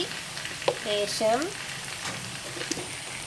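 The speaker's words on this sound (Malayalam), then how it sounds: "അപ്പോൾ നമ്മുടെ സവാള നന്നായിട്ട് വഴന്നു വന്നിട്ടുണ്ട്." Sliced onions sauté with turmeric powder in a pan for an egg curry, a moderate close sizzle running steadily beneath a brief stretch of talking.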